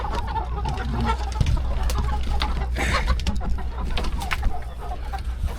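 Chickens in a coop cluck and murmur close by amid steady low background rumble, soft overlapping calls continuing throughout.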